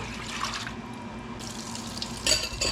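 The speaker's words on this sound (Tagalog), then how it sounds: "Tapos lagyan ng tubig." Tap water runs steadily into a pressure cooker while pork ribs kaldereta is being prepared in a home kitchen, a continuous splashing stream at close range with no talking.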